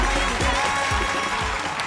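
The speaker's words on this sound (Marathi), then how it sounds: "वा वा, जोरदार टाळ्या." An audience claps loudly at a lively stage show, a dense, brief burst of applause with a crowd murmur underneath.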